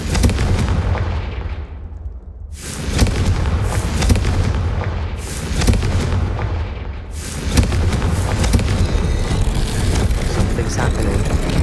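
Repeated Confringo fire-spell blasts in Hogwarts Legacy: heavy booming explosions in three or four big bursts, each with a rolling, noisy tail, loud and close, with some game sound between them.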